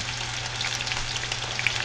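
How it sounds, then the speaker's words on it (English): Chicken for orange chicken fries in oil, sizzling and crackling steadily with scattered pops, a close, continuous frying sound over a low hum. "until we have it in there sizzling away"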